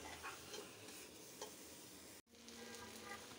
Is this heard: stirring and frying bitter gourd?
yes